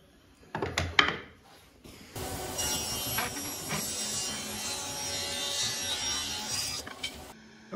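Saw cutting quarter-inch slots in wood for a honeycomb cutting board, a few sharp knocks, then a loud steady rasping cut that runs about five seconds and stops abruptly.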